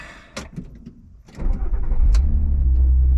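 An Audi TT Mk1 with knock sensor trouble cranks briefly and fires up, then settles into a steady, close, loud idle with a low rumble, with no talking over it.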